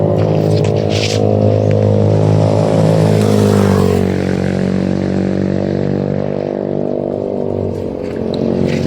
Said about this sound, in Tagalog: may motor na dumadaan